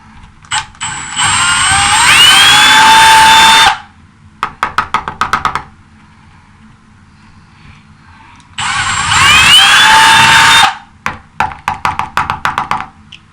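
A power drill with a 3/8 inch bit bores into a wall, running in two loud high-pitched whining bursts, each a few seconds long and followed by a rapid string of clicks.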